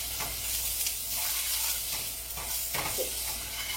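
Onion frying in a pan while being stirred, a steady close sizzle with scraping stir strokes recurring through it, no voices present.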